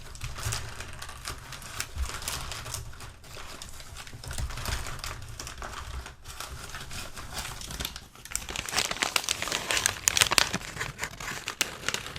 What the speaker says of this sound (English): Wrapped up with some nice crinkly paper.